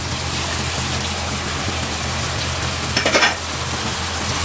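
Onion sizzles steadily in a hot pan with seasonings and sesame oil, cooked for pork steak. A close, even frying hiss runs throughout, with a brief clatter of stirring near the end and no talking.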